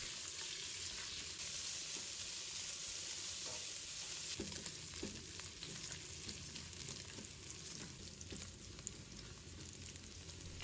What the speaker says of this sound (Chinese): 油热之后加入切好的五花肉，中火反复的煸炒